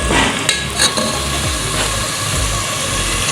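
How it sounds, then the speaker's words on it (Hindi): Chopped onions fry in ghee left from frying taro root, with a close crackling sizzle and a few stirring scrapes over a short stretch. "तो अब हम जो है ये ऑनियन शामिल करेंगे।"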